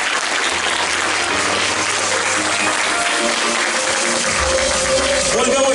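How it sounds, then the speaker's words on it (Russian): Sustained audience applause at a jubilee concert of a music studio, loud and dense throughout, with faint musical tones and murmur underneath. "Поддержите аплодисменты."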